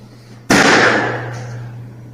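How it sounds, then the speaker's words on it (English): A balloon pops outdoors with one sharp, loud burst that decays over about a second and a half, alone with no talking. "pay attention to the way this balloon sounds"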